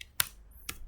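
Two sharp, quiet keystrokes on a computer keyboard, spaced about half a second apart, over near silence.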